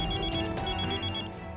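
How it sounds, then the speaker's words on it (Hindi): A telephone rings indoors with a bright, pulsing electronic ring that repeats steadily through the moment, loud and alone with no talking. "कम ऑन रीत, फोन उठाओ।"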